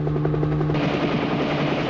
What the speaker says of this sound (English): the helicopter noise is just a transition to the next scene